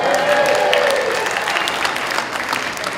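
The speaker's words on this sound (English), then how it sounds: "I thought that would get the biggest applause of the night." Applause at a press club awards dinner, a broad wash of crowd clapping that holds steady and fades slightly, with faint voices mixed in.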